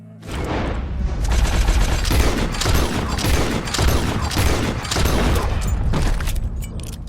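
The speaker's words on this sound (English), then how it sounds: "He shot the thing." A rapid fusillade of gunshots rings out in close succession, loud and dense with sharp booming reports and echoing tails, continuing almost without pause through the whole stretch.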